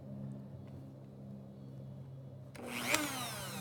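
A rotary grinding tool on a workshop bench is switched on for a brief high whine that rises and fades over about a second, following a low steady background hum.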